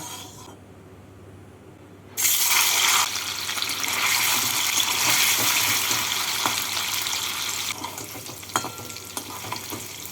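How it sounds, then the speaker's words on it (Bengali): Paneer pieces fry in hot white oil in a wok on a gas stove, a dense loud sizzling hiss that bursts in after a quiet start and keeps crackling steadily. "তেলটাকে গরম করে নিয়ে এর মধ্যে পনিরগুলোকে ভেজে তুলে নেব"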